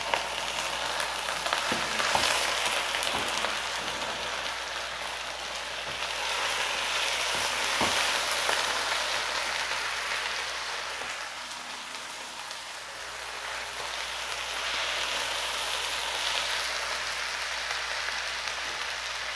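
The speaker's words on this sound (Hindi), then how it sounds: "तो अब इसमें हम अपना चिकन ऐड कर देंगे।" Raw chicken goes into browned onions in a hot pan for a chicken and spinach curry, setting off a steady, loud, rain-like sizzle that holds evenly throughout with no talking.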